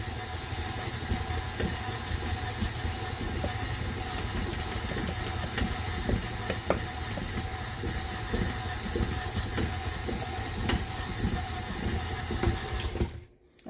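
An electric mixer runs at fairly high speed, beating flour into thick lemon bar batter, giving a loud, steady whirring drone with a rattly texture that cuts off abruptly just before the end.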